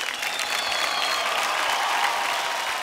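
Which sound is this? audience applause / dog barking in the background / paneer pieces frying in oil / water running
audience applause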